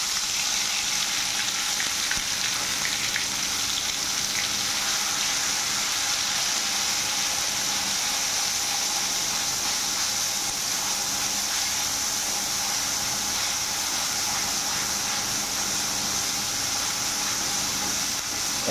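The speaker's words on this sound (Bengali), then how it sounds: "এখন আমরা রসুন, পেঁয়াজ আর কাঁচা লঙ্কার যে পেস্টটা আছে সেটা দিয়ে ভালো করে কষিয়ে নেব।" Garlic, onion and green chili paste frying and sizzling steadily in hot oil, a continuous bright crackle that holds at the same close level throughout with no talking.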